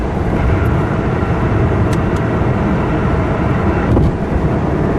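A red 2006 Ford GT with white stripes roars under way on a ride, its engine a loud, dense, continuous rumble from inside the car with no voices over it.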